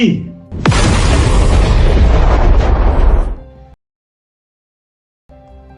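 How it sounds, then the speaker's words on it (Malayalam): A firecracker bursts with a loud, sudden boom followed by a long roaring rumble that fades over about three seconds before cutting to silence. "അത് ഞാനൊരു സാമ്പിൾ ഗുണ്ട് പൊട്ടിച്ച സിഗരറ്റിൽ വെച്ചിട്ട്"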